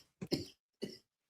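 A person coughs close to the microphone: a quick double cough followed by one more short cough after a brief pause, with quiet in between.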